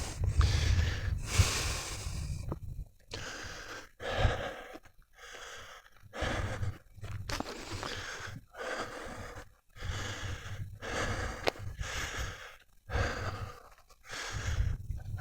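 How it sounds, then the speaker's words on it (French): A man breathes hard and heavily while walking up a hill, giving steady rhythmic gasps and puffs close to the microphone, with no other sound around them. "pour ceux qui m'entendent souffler, c'est vrai que je suis essoufflé, mais je monte une côte en fait"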